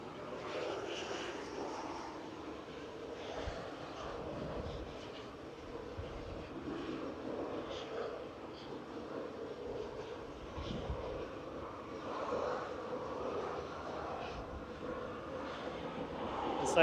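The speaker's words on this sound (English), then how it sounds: "EasyJet going next. Heading over to Amsterdam, GEZTA A320 Classic with flight 2171." An easyJet Airbus A320 Classic departs Manchester Airport on a gusty day, its jet engines a steady, broad roar at moderate distance with wind buffeting throughout.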